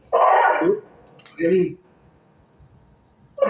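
A dog barks in a few short, loud bursts spaced over a few seconds, close by, with quiet room tone between them.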